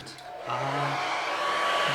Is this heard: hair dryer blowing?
yes